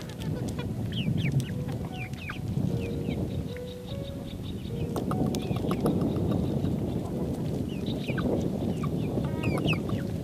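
Free-range village chickens cluck and chirp steadily at close range outdoors, with repeated short calls over a constant background of rustling and scratching.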